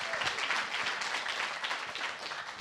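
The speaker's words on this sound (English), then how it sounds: "Let's clap for that." Applause from an audience at the Collider Cup, UC Berkeley's startup pitch competition, steady dense clapping throughout with no pauses.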